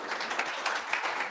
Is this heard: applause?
yes